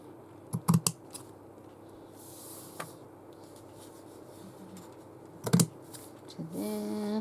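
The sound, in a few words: cutting fabric for stitchery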